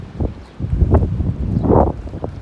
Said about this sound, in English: It's a stiff breeze, so it's not very pleasant really for fishing in my view.